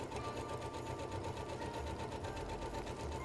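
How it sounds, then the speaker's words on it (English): A sewing machine runs steadily as it stitches straight lines along fabric with an edge guide, a continuous fast mechanical whirr at an even pace from start to finish. "we're going to start sewing straight lines using the guide"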